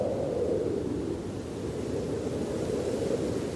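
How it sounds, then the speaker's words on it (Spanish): Snowstorm wind in Siberia blows as a steady, dense low roar without gusting breaks, loud and continuous with no voices. "Se avecina una tormenta de nieve."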